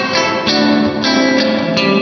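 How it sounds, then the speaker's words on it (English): An electric guitar runs through the EMT 140 plate reverb emulation on a Poly Effects Beebo pedal set to bright, sustained chords with bright, shimmering reverb tails swelling at each strum, loud and close. "There's a couple of plate reverbs here, like the EMT 140 plate,"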